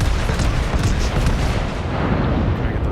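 Heavy booming gunfire from the Tirpitz, a Tier 8 Kriegsmarine battleship in World of Warships, a dense loud rumble of repeated blasts filling three seconds with little pause.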